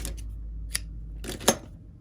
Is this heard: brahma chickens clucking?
no